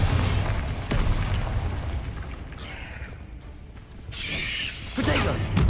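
A Bombarda blast spell from Hogwarts Legacy goes off amid ongoing combat spell effects, a dense rumbling boom with crackling bursts that swells again near the end.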